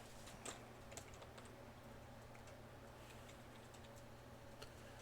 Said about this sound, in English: I'm typing in the wrong thing in the notepad.